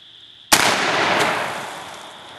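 .44 Magnum double-action revolver firing a soft point round at a 7-yard range, one sharp loud crack with a decaying echo tail.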